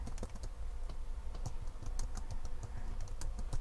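Rapid typing on a computer keyboard while entering a value into a Python program, a steady run of light, close key clicks with occasional heavier taps, faint and without speech.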